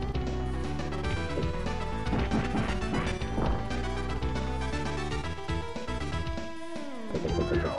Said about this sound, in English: I'm just breaking glass because it's fun